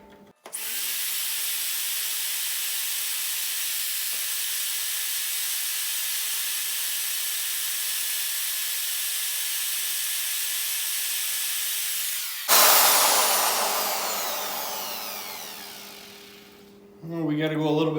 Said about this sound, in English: Once you hit the wood, you're going to drill through the concrete